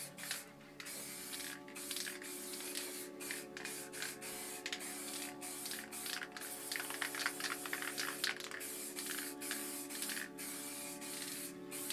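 A Montana Gold spray paint can hisses in repeated bursts, spraying aqua paint near stencils, with short gaps between sprays and clicking sounds layered over a steady background hum.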